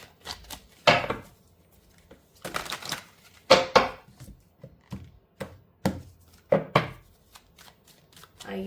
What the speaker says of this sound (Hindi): तो I am picking few cards, 2 से 3 कार्ड्स मैं पिक करने वाली हूँ